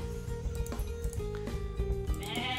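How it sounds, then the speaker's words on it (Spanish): Sheep and goats bleating in the video game Age of Mythology: Retold, a few short bleats over game music, fairly quiet. "Tenemos ovejas, tenemos, bueno,"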